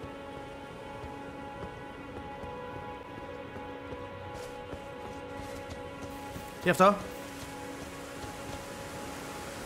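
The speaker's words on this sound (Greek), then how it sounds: "Βρέχει." Soft, steady rain patters in the video game Elden Ring beneath faint sustained music tones, while someone briefly speaks near the end over the even hiss.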